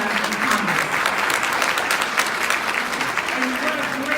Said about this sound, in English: let's give another round of applause to all of those incredible gentlemen who